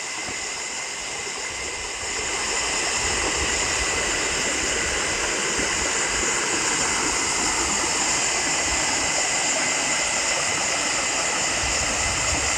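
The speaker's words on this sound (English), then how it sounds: "And now I've come to a little creek crossing." A small creek at a crossing on a mountain hike pours over rocks. It makes a loud, steady rushing wash that goes on without a break and swells a little after the opening seconds. No voices are heard.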